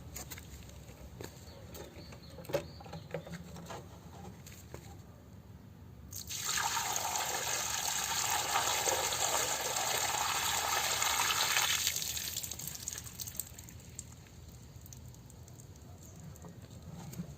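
Dirty liquid from a car upholstery extractor's reservoir pours out in a steady rushing stream for about six seconds, heard up close over quiet background drips and trickles, with no talk.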